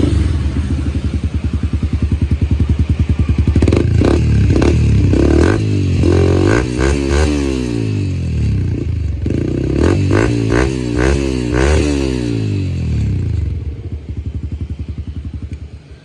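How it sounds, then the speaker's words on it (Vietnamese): A Yamaha R15 v2 motorcycle is started up close and revved hard several times, each blip rising sharply and falling back to a rough, loud idle before the engine winds down near the end. "nổ máy cho anh em nghe nha."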